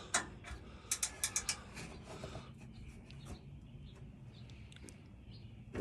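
An open-ended wrench works to break a bolt loose on a vehicle bumper, making a rapid cluster of metallic clicks and ratcheting ticks, then quieter scattered clicks over a low background.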